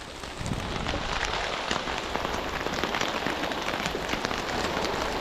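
Heavy rain pours down on the seashore during a fishing trip, a dense, steady hiss of drops hitting the surface nearby with no pauses and no talk.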